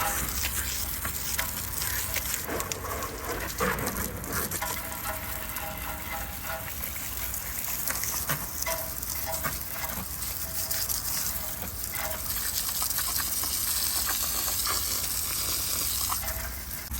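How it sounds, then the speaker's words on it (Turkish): Plenty of water sprays and rushes over a Volkswagen Passat during a wash, a continuous loud hissing gush with no pauses, close by throughout. "Şöyle bol suyla yıkayalım."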